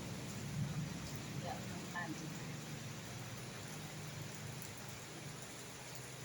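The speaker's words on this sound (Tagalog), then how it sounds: "Naku, lumakas na ang ulan." Steady heavy rain pours down in a continuous, even hiss, with faint low voices murmuring underneath.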